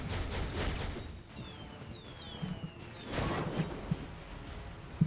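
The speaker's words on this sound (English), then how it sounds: "I did not know there were little fireworks sounds with this uniform." Little fireworks effects from a character uniform in the mobile game Marvel Future Fight crackle in bursts, with whistling rising streaks, a few sharp pops and a second burst of crackle near the end, with no voices.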